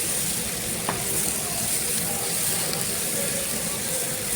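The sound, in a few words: stirring and frying onions and green chilies in a pan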